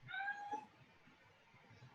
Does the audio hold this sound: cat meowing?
yes